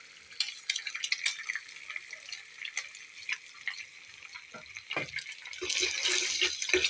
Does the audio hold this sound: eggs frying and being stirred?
yes